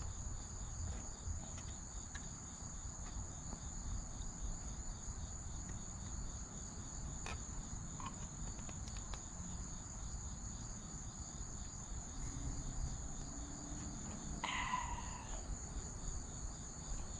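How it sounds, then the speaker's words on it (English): Crickets chirp steadily and faintly outdoors on a sunny day, with a continuous high trill and no one speaking. "The crickets are chirping."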